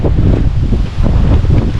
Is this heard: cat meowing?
no